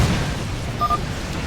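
A barricade blows apart in StarCraft 2: Heart of the Swarm, a low rumbling blast that rolls steadily through the whole moment, with a short high tone near the end and no voices.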